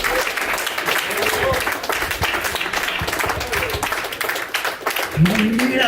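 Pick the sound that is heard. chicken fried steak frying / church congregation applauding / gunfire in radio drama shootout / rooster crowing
church congregation applauding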